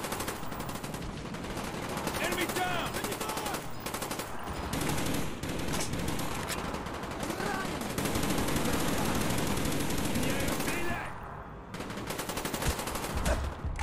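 Sustained gunfire in Call of Duty: Black Ops, with dense bursts of automatic weapons fire aimed at the player continuing almost without pause, loud and close, under occasional talk, with a brief lull near the end.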